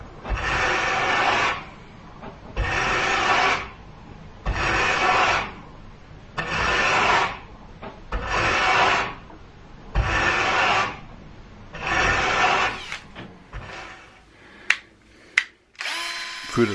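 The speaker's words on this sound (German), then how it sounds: "Beim Bürsten entfernt man nur das weichere Frühholz." Power brushing of wood to strip away the softer earlywood, seven evenly spaced bursts of harsh whirring abrasion, each about a second and a half long, followed by a few sharp knocks and clicks.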